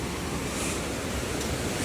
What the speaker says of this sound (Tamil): தண்ணி கீழே கொட்டுதோ